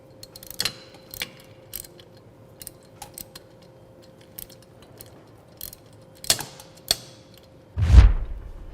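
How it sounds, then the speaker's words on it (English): Bolts being tightened with a 1/2-inch socket wrench while assembling an X-Press Archer, giving sparse metallic clicks and clinks near the mic, then a heavier clunk at the end, with no talk. "just grab your 1/2-inch socket or your 1/2-inch open face wrench and firm these down"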